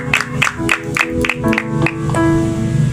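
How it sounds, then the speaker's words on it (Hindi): A church congregation claps in a steady rhythmic beat, about seven evenly spaced claps, over sustained music tones during a worship service. "जोरदार तालियां खुदा के लिए।"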